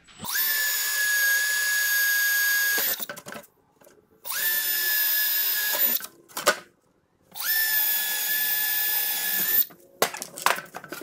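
A power drill bores holes for toggle bolts to hang bandsaw blades, three sustained whining runs of about three seconds each, separated by short pauses with light handling clatter, loud and close.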